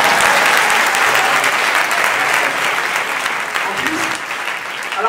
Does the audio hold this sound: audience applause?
yes